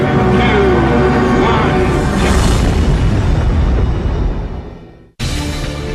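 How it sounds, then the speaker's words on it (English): Nuclear weapon detonation from the Manhattan Project era, a loud sustained roaring boom that rumbles for several seconds, fades to silence, then cuts into another steady rumble. "the explosion of a new, more powerful weapon of mass destruction"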